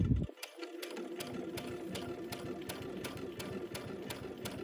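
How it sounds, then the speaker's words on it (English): A sewing machine stitching a quilt runs steadily at a moderate, unhurried pace, a close, continuous rapid needle chatter with faint periodic clicks, no talk. "I want to sew just a whisker to the right or a thread to the right."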